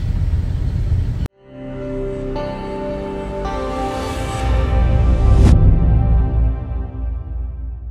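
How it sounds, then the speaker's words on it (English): Cars pulling up at the Manila airport Terminal 1 drop-off make a steady engine rumble and traffic hum. A sharp cut near the start is followed by continuous, moderately loud vehicle noise that swells toward the end, with no talking. "the cars are pulling up and we've got porters helping people out of their cars"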